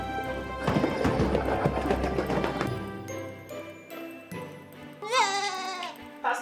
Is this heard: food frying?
no